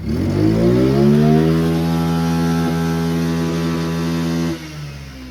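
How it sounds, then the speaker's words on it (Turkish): A Lamborghini Crono 55 tractor engine revs up to a steady, strong harmonic drone, holding for several seconds before the revs drop near the end; no voices. "Buradan çalıştırıyoruz arkadaşlar traktörü."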